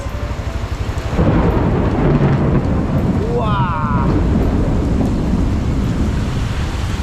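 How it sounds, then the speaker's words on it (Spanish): Heavy tropical downpour in the Philippines with a loud rolling thunder crash beginning about a second in, steady rain hiss throughout and a brief tonal chirp in the middle. "Me pregunto cómo esos cables con esta lluvia y con esos rayos no pasa nada."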